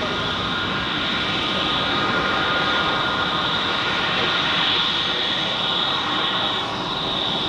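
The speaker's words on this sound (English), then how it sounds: "Here we have a Swiss A320 Neo. Has just landed." A Swiss Airbus A320neo just landed at Zurich Airport, its engines giving a steady, loud broadband roar with a bright whine that holds throughout.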